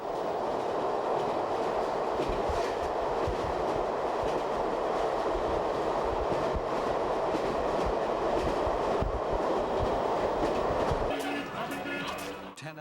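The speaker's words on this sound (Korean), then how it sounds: "베이징을 떠난 지 10시간 후 기차는 장저우에 도착합니다" A passenger train in China rolls along the rails from Beijing, a loud, constant rumble with rhythmic wheel clatter, ending in brighter metallic squealing.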